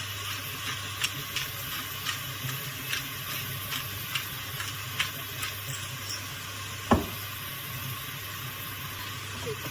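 Chili peppers sizzle in a frying pan in a rural home kitchen, a steady hiss with faint regular crackles and one sharper clatter near the end.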